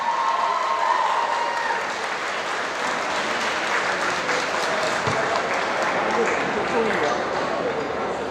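Steady applause from an audience at a Chinese Community Center 45th anniversary gala as a woman makes her way forward, sustained and fairly loud, with scattered voices mixed into the clapping.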